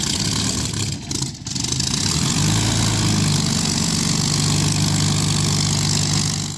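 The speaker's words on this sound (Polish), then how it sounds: "Silnik Rolls-Royce Merlin jest prawdopodobnie najlepiej brzmiącym silnikiem spalinowym," A Rolls-Royce Merlin 27-litre V12 aircraft engine with two-stage supercharger, the kind powering a Supermarine Spitfire, runs loud and close in a steady deep roar after a brief dip, with no talking.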